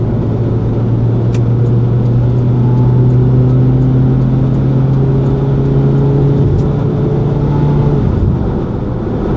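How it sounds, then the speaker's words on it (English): Honda S-MX accelerating on a road test, a steady loud engine drone climbing in pitch inside the cabin with a rising whine, then easing off near the end. "we're accelerating up to speed now"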